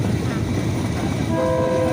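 A train on the rail line from Maha Chai to Mae Klong, heard as a steady, loud rumble of rolling wheels and carriage noise from on board, with a sustained horn-like tone entering near the end.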